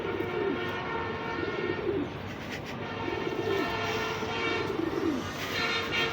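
Pigeons kept for sale, including a breeding pair, coo repeatedly and close by over a constant background hum.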